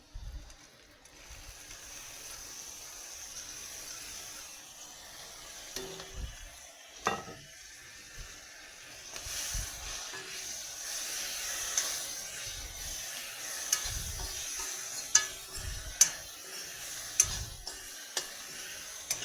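White mustard seeds sizzle and crackle in hot oil for a pickle, with a steady soft hiss broken by sharp little pops and stirring clinks that grow busier toward the end.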